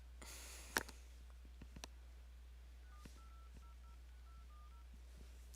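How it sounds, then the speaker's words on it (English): A telephone number is keyed in as a quick run of short, faint dial tones in an uneven rhythm, preceded by a few soft clicks over a low steady hum. "I can maybe see if I can try and get Ian on here. I doubt he'll answer the phone"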